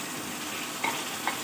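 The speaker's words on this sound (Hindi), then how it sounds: "अब इस कीमे को हमने अच्छी तरह से फ्राई करना है" Minced meat (keema) frying in a pan with browned onions, a steady soft sizzle with faint stirring scrapes and two brief utensil clinks near the end.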